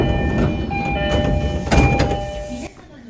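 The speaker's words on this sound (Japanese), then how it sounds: "真ん中の2番線に入線します。" A local train pulls into platform 2 at Totsuka Station, its steady motor whine and sustained electric tones riding over a loud rolling rumble, with a brief rise in noise before the sound drops away as it slows.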